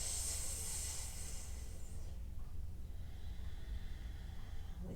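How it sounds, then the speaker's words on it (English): Soft, hissing cooling breaths drawn during a gentle yoga session, a couple of close, quiet airy inhales and exhales with a faint low background hum. "Maybe a few cooling breaths"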